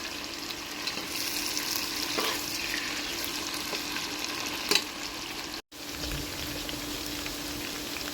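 Garlic, potatoes and onions fry together in hot oil, giving a steady close sizzle with faint stirring scrapes, a brief sharper clink midway, and a momentary dropout before the crackling resumes.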